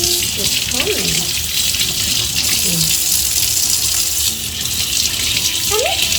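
Mushrooms are washed under a running kitchen tap, a loud steady gush of water throughout, with voices and brief chirpy sounds faintly underneath.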